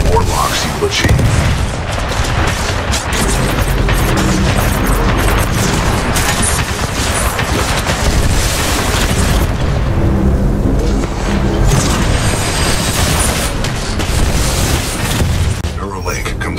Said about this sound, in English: This shoulder-mounted rocket pod will lock onto multiple enemy targets.